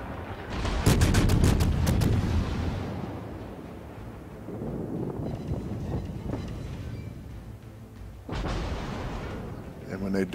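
Naval guns on the German heavy cruiser Prinz Eugen firing in World of Warships, loud booming salvos with rumbling echoes at the start and again near the end, with a steady background rumble between them.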